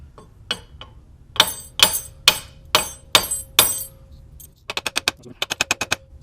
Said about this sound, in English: This one, just a few hammer hits and it looks like it'll slide right off.